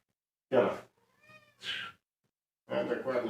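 A cat meows several times in short, separate calls, close by, with a few quiet gaps between them.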